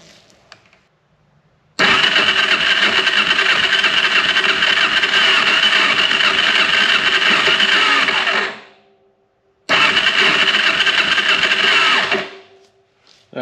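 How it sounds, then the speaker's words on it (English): An engine with a bad starter clutch cranks over during a compression test with the throttle held wide open, two long loud grinding whirring bursts separated by a short pause. "as you could tell by the sound, the starter clutch is no good"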